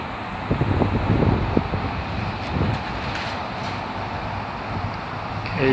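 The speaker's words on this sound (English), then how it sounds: "suddenly there's a very strong gust of wind" Strong gusts of wind buffet the microphone on a hot windy day, giving a continuous loud rumble that swells and eases with the gusts.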